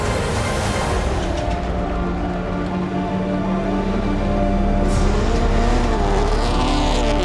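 A Subaru rallycross car in a Global Rallycross race at Charlotte spins celebratory donuts, engine roaring loud and continuous with revving surges and a rising tone near the end, no talk.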